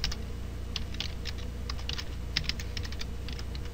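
A password is typed on a computer keyboard, a sparse scatter of light key clicks in irregular clusters over a steady low background hum, close but quiet, with no talking.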